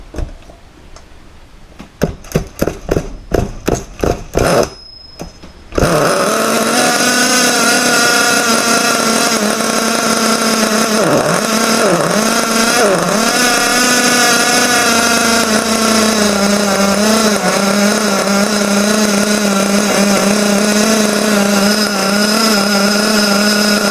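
A T2M 3.5cc nitro RC engine gets a series of sharp pull-start cranks and catches, then runs on loud and steady with a high buzzing drone whose pitch wavers as the throttle shifts.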